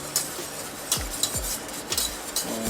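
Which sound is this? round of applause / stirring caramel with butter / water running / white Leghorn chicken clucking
stirring caramel with butter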